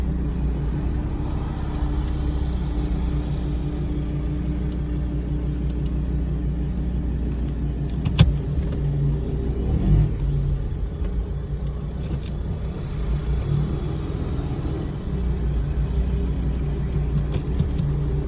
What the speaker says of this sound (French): ce magnifique bruit que sont les 250 chevaux de cette voiture